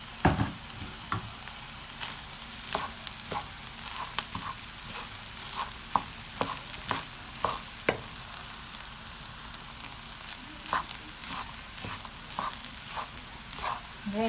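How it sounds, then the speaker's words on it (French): Eggs being stirred and turned into fried rice in a hot pan, with a steady sizzle and repeated scraping and tapping of a utensil against the pan at close range, no talking. "Et je vais revenir ajouter mes œufs."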